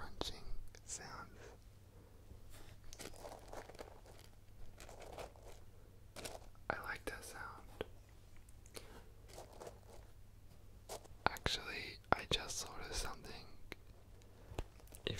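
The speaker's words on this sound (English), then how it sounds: "I'm gonna make some crunching sounds." Close, soft crunching and crackling of milk slime comes in irregular bursts, interspersed with faint whispering.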